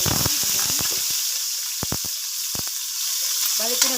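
Chicken sautéing in a pan gives a steady sizzle and frying hiss throughout, with scattered utensil clicks and a brief stirring clatter at the end.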